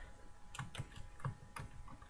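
A computer keyboard typing an entry into an Excel spreadsheet cell: about half a dozen light, separate key clicks at an uneven pace, faint and close, with no talking.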